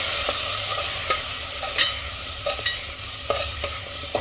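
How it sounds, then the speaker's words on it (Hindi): Spices, turmeric and red chilli powder, stirred and frying in a pan for a fenugreek potato curry: a loud, continuous hiss with regular spatula scrapes every half second or so. "बस इन्हें एक बार चला लेंगे 1 मिनट के लिए इस तरह से।"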